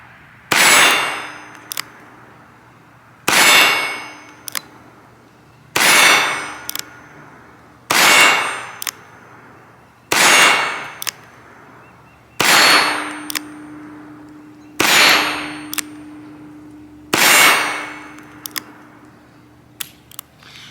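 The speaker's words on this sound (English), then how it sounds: "So let's shoot another 8 rounds through this one and see" Charter Arms .22 revolver fired at steel targets: eight evenly spaced sharp cracks, each followed by a ringing metallic clang from the struck plate, loud and close with no talk.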